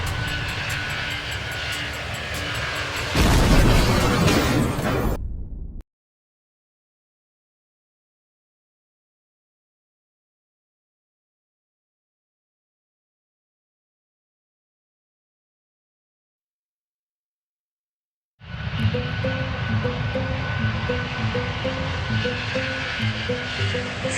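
Aircraft engine drone from a Roblox air crash game, heard loud for about five seconds with a brief surge, then cut to silence before a steady engine roar returns near the end.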